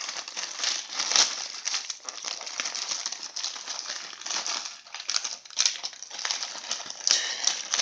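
Lego packaging being torn and pulled open by hand, a run of close crinkling, crumpling plastic and cardboard rustles in irregular bursts, without speech.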